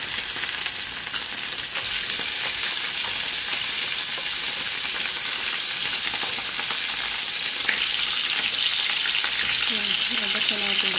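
Chicken pieces fry in hot oil for a recipe, a steady, dense sizzle and crackle running throughout with faint stirring, no voices.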